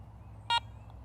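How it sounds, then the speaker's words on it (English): A Garrett Ace 400 metal detector gives one short, bright electronic beep when powered on, set against a faint low background hum. "press the power button and hold for about 1 second until you hear that second beep"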